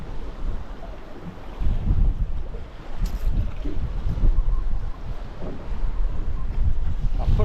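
Wind gusts buffet the microphone aboard a small fishing boat at sea over wrecks and reefs, a rough rumbling roar that swells and dips with faint water wash beneath and no talk.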